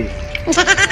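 A single close, loud goat bleat breaks in after a brief quiet moment, a short quavering cry.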